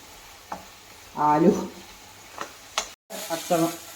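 Coorg-style masala sizzles in a frying pan while a spoon stirs it, producing short scraping bursts and a steady frying hiss, with a few soft clatters and a brief silence in between.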